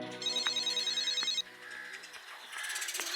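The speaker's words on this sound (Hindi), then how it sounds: "ये फोन कितना बज रहा है?" A telephone rings loudly in a repeating electronic ringtone, a bright warbling pattern that cuts off partway through and is followed by quieter background sounds.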